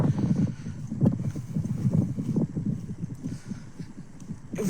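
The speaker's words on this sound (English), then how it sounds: "it's really, really windy." Strong gusty wind outdoors on a bright day buffets the microphone in uneven low rumbling bursts for several seconds, with no voice heard.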